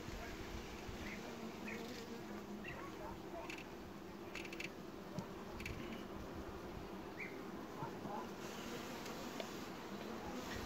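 Honeybees buzz steadily around hive frames during a beekeeper's inspection of a queenless colony, a dense close drone with occasional brief louder passes near the microphone.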